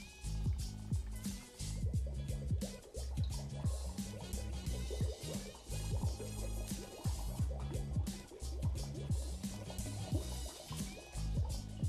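Grenadine poured into a Halloween cocktail, a continuous dripping and trickling of liquid with small wet splashes and gurgles, close and steady under a moderately loud mix.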